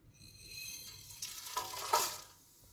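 Whole spices (cumin, black and green cardamom, cloves, bay leaves, cinnamon, black peppercorns) dropped into hot oil for pulao, crackling and sizzling faintly, swelling briefly before settling.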